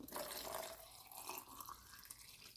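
Vinegar-water solution is poured over a roll of paper towels in a container, giving a steady, close splashing and trickling pour that eases off toward the end.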